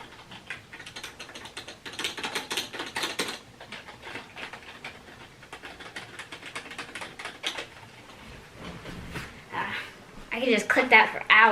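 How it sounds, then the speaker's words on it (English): Keys on a new Razer keyboard click in quick bursts and irregular runs, crisp and close, with a person talking excitedly between and over the typing. "I can just click that for hours. But this is the keyboard."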